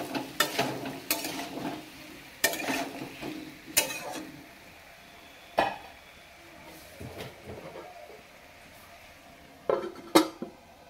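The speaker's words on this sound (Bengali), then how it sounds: "আলুগুলো এদিকে ভাজা হোক" Potatoes fry in a pan in a home kitchen while being stirred, with sharp intermittent scrapes and clinks of a utensil against the pan over a soft, low sizzle, spaced irregularly across the stretch.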